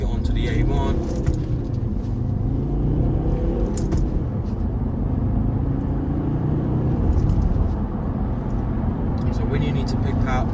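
A 2014 Volvo XC70 2.4 D4 diesel with all-wheel drive and a six-speed manual gearbox accelerates on a motorway, heard from inside as a steady, loud low rumble of engine and road noise with a few brief clicks and knocks.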